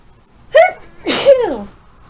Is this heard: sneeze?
yes